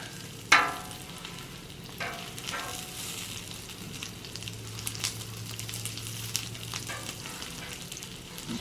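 Butter sizzles and browns on a hot flat-top griddle after the heat is turned off, a steady close frying hiss with small crackles and pops, one sharper spatter near the start, no talking.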